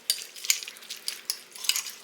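A spoon scraping and clinking against a bowl while mixing a heaped spoonful into an ingredient mixture, a handful of sharp metallic taps spaced unevenly, close and fairly quiet.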